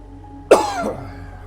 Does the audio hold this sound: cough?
yes